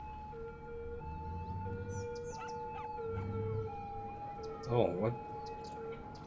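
An ambulance siren in the city-building game Cities Skylines wails in a steady rising and falling tone at moderate distance, while someone talks over it, briefly exclaiming.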